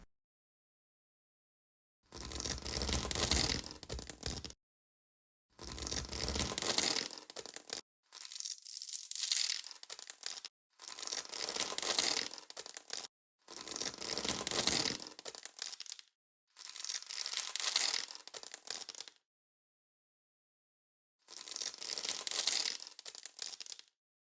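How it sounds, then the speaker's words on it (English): Seven loud, harsh ripping bursts of heavy-duty tape and velcro torn together, each lasting a couple of seconds, separated by short silences, close and crackling. "Tearing heavy-duty tape is perfect for a strike sound, while Velcro is great for a nice crackle."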